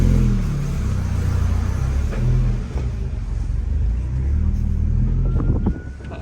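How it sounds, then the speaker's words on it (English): The engine of a 1990 Mazda Miata idles low and steady on a cold start, a loud close rumble with some wind noise over the microphone. "So you'll notice on a cold start, the RPMs are pretty low."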